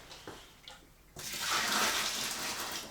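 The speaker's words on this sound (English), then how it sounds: "Then grab the rest of the boiling water" A few faint knocks, then a steady rushing pour of boiling water into a barrel while homebrewing stout, loud and continuous to the end.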